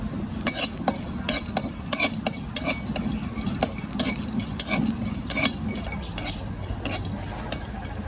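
Chickpeas and cumin seeds fry in a pan for a village-style khichuri, with a low steady sizzle beneath regular metallic scrapes and clinks of a spatula stirring against the pan.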